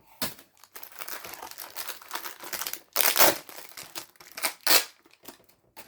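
A knife cutting into Takara Tomy Beyblade X booster packaging, close crinkling and crumpling plastic in irregular bursts with a few sharp louder rustles, no talking.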